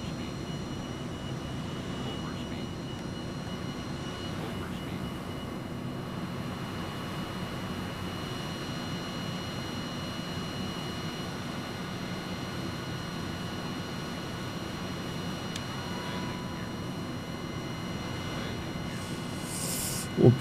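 Simulated airliner engines in Microsoft Flight Simulator, slowing on approach to Athens airport, a steady broadband drone with a faint whine, even and unbroken throughout.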